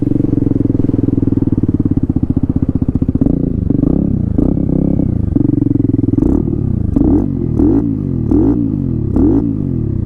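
A Honda Grom fitted with a swapped-in CBR engine runs loudly and close with a steady, rough drone, then blips through several short revs that rise and fall without climbing freely, with a faint clattery edge.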